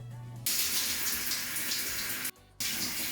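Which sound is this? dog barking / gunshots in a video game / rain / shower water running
shower water running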